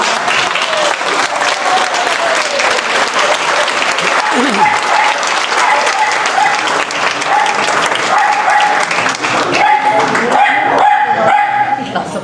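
An audience claps loudly and continuously, the applause sustained throughout with dogs barking and yipping over it and voices mixed in.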